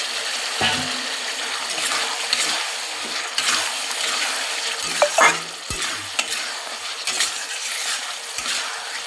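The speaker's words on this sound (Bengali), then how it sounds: "আমার ডিমের ঝোল কিন্তু ফুটে গেছে" Pepper egg curry with potatoes cooks in a pan, with steady frying sizzle and occasional scraping and stirring of the spoon against the pan, plus a few sharp clinks, up close and without talk.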